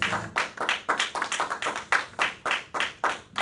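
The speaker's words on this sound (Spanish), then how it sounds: "Den otro fuerte aplauso al Señor." Congregation applause for the Lord during a Spanish-language church service: a dense, steady burst of many hands clapping close by for several seconds, with no talk over it.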